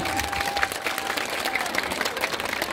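Dense, steady applause from a concert crowd at an open-air village festival show, loud and continuous throughout with a brief whistle-like tone near the start.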